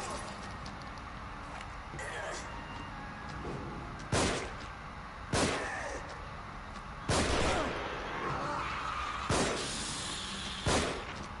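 Gunshots in The Evil Within, five sharp loud reports spaced a second or more apart over a murmuring background with talk.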